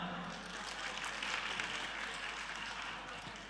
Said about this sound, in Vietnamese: xin quý vị hãy cùng dành những tràng pháo tay thật lớn để chúc mừng các tiết mục